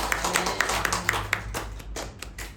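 A church congregation claps along during a Sunday worship service, a run of regular sharp hand claps at a steady beat that thins out toward the end, with no voices over them.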